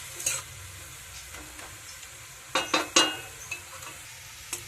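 Leafy greens sizzling in a hot pan as they are stir-fried, with scraping stirs and a few louder clattering strokes at irregular intervals, close by and no voices.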